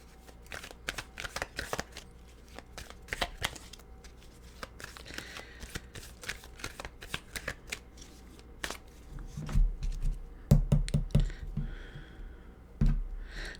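Tarot cards are shuffled by hand in repeated quick riffling bursts, close and crisp, growing louder with a few firm taps toward the end.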